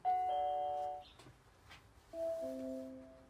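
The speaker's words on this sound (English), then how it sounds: "the Nest Home Hub will show feed from the Nest Hello when someone pushes the doorbell button" A Nest Hello video doorbell chime rings twice after its button is pressed, two clear electronic ding-dong tones close to the microphone with a short pause between them.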